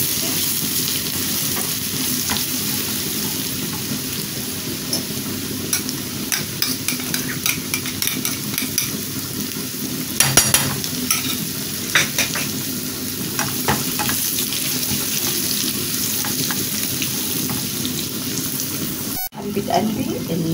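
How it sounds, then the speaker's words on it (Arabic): Garlic and coriander frying in oil in a pan while a utensil stirs them, a steady close sizzle with scraping stir sounds and occasional clinks, heard alone without talk until a sharp click near the end. "هنضيف على الثوم الكزبره بتاعتنا، الثوم يتحرق مني"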